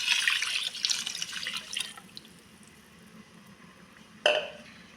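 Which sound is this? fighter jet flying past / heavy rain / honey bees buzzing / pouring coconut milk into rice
pouring coconut milk into rice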